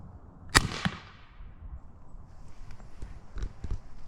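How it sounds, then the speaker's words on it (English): A Benjamin Airbow, an air-powered arrow gun, fires an arrow over a chronograph from a bench rest: one sharp near pop and a quick follow-up snap, then faint clicks and handling noises in a quiet outdoor setting. "Take another shot over the chronograph."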